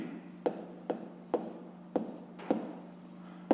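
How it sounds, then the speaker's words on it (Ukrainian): A pen writes out a math answer on paper for a fifth-grade exercise, giving faint, close scratching strokes with regular tapping accents, without talking. "Ну і записуємо тоді."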